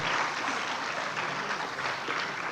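An audience with children keeps up steady, continuous clapping at a campus inauguration event, a dense even patter of many hands with no voices over it.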